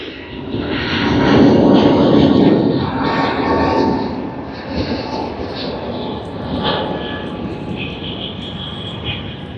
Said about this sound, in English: I think this is one of the first departures of Jetstar for the day.